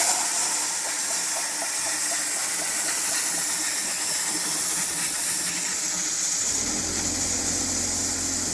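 Compressed air blasts chips off a lathe lead screw in a steady, loud, close hiss that runs throughout, its tone changing slightly near the end.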